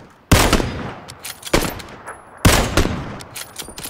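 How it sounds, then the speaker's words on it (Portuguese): Bursts of gunfire in a video game squad match: three loud, sharp volleys spaced about a second apart, each decaying quickly, with no talk over them. "Tão atirando no cara caído."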